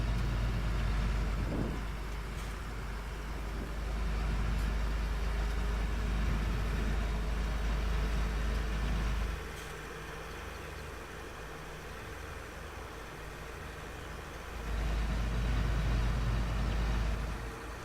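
A tractor engine drones in the Farming Simulator 17 video game, a steady low mid-pitched hum that swells louder, eases off, then rises again over a long stretch.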